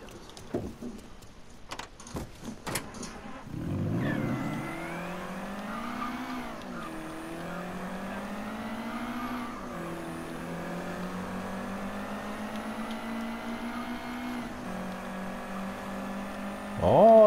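A car accelerating in the video game Mafia 3: after a few clicks and knocks, the engine starts and climbs in pitch through several gear changes, holding a steady loud drone and surging again at the end.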